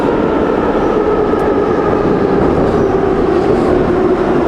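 Old Moscow metro train with chrome fittings and 1970s-era aluminium window frames running steadily, a continuous loud rumble and rolling drone with no pauses, close by and without voices.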